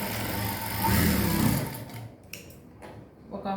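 A sewing machine runs a steady close stitch through kids' lehenga fabric for about two seconds, then stops, followed by light handling noises and a faint voice.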